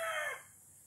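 A rooster on a family farm finishes a crow, loud at first and then trailing off quickly into quiet outdoor background.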